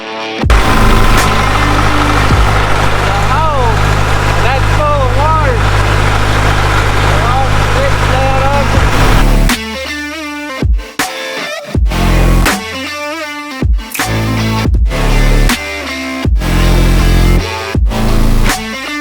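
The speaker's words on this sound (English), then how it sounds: "Him and his dozer, they're going at it again" A Caterpillar D3 bulldozer engine runs with a loud, steady diesel rumble that holds for about half the clip, then continues more choppily while a person talks over it.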